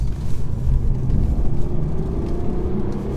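A 2019 Mercedes E400d diesel engine rumbles steadily and close by, its low drone rising slightly in pitch as it accelerates, with no voices.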